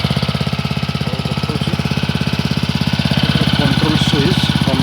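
A Honda WB20XT water pump engine runs steadily up close, a loud, rapid, even chugging that rises slightly in intensity toward the end, with no voices over it.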